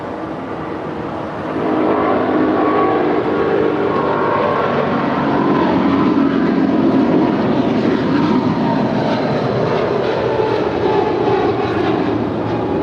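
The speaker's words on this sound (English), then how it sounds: "you're definitely going to hear the plane fly over our head." A United 777-200 jet flying overhead at LAX, its engine roar loud and continuous, swelling after the first seconds and holding a broad rumbling wash to the end.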